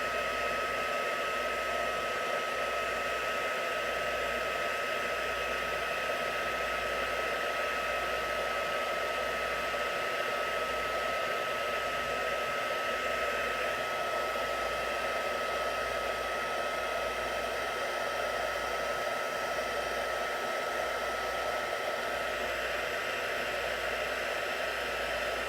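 Heat tool for heat embossing on cardstock, a continuous steady blowing hiss that holds level and loud for the whole stretch with no pauses.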